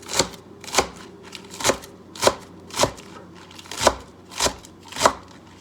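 Carrots rasped against a hand grater as part of a simple French salad, about nine even, close strokes at a steady rhythm with quiet pauses between them and no talking.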